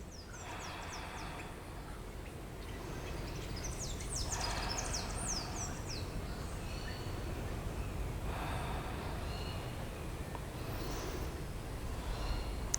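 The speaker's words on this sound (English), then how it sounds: "let's take 3 deep breaths" Deep breathing during a yoga session: three slow, soft breaths drawn in and out, faint and spaced several seconds apart in a quiet room.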